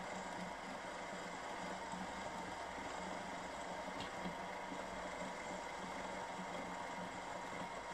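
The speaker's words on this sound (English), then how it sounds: "this is the last cut on the final keyway" A machine cutting the final keyway in a steel shaft for a sliding gear on a 2-inch Fowler Showman's traction engine model makes a steady, even mechanical hum with a faint whine, unchanging throughout and with no voices.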